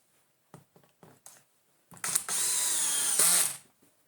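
A cordless power driver sets screws for a cordless vacuum wall mount, with several short clicks and taps before a steady mechanical whir of about a second and a half that rises in pitch and then cuts off.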